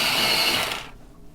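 A colouring pencil is sharpened in a short burst of grinding, rasping whirr lasting under a second before cutting off.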